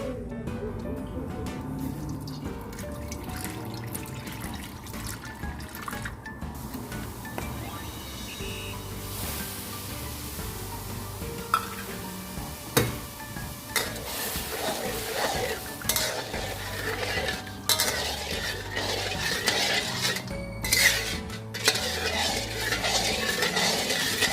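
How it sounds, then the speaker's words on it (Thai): Sugar and vinegar simmer in a cooking pot while being stirred, with steady bubbling and frequent clinks and scrapes of a utensil against the pot throughout. "เราจะต้อง เคี่ยวน้ำตาลทรายนะคะกับน้ำส้มสายชูก่อนค่ะ"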